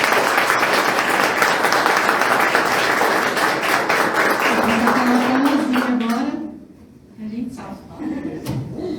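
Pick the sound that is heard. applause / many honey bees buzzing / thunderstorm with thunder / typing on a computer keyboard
applause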